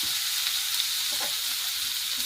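Onions frying in a pan give a steady, even sizzle and hiss throughout, with a faint stir or scrape now and then, close by and without speech.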